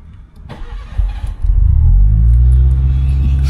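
A big-turbo SR20 Nissan Sentra accelerating on city streets, with a deep engine rumble that swells after a brief lull, loud and close from inside the car.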